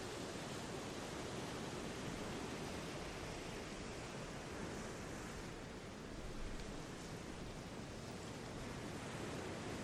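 Ocean surf washes onto the shore in a steady, dense rush of broadband noise with little variation, a continuous roar heard alone without voices.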